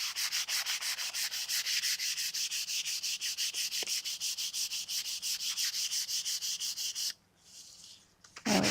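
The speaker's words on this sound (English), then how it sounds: "Just lightly rubbing this." A journal cover is rubbed lightly in fast, even back-and-forth strokes with a steady scratchy rhythm, close and clear, stopping briefly near the end before one last stroke.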